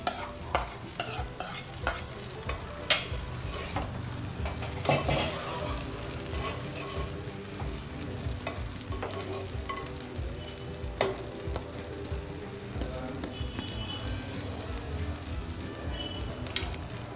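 Rice being mixed into pot biryani, with a spoon scraping and clinking against the pot in quick bursts early on, then a soft steady sizzle with occasional taps, close and fairly loud.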